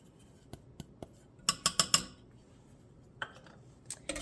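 A metal whisk taps and clinks against a small saucepan while sugar and cornstarch are mixed, with scattered light ticks, then a quick burst of four close clatters, then a few more.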